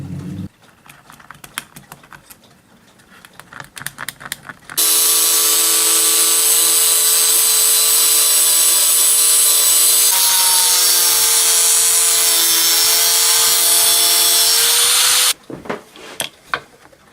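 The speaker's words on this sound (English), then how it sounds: "Might just have to round this off with the grinder." An angle grinder rounding off a part for a mechanical Halloween prop: after some quiet handling clatter, a loud, continuous high whine runs for about ten seconds, shifts pitch midway, then cuts off into more light knocking.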